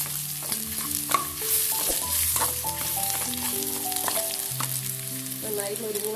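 Dried red chillies fry with anchovies in a pan. A close, steady sizzle runs under frequent stirring scrapes and light clinks.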